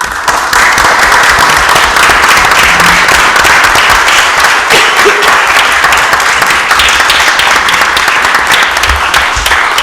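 An audience at a council meeting applauds loudly and continuously, dense clapping sustained throughout with a faint murmur of voices underneath.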